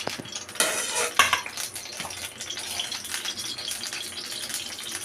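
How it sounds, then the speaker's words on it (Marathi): Mustard seeds crackle and spit in hot oil, tempering a spiced base of crushed ginger, garlic and chilli for a field-bean curry. The sizzle is a steady, close, fizzing patter with a few sharper pops near the start. "मोहरीला थोडे तडतडू दे"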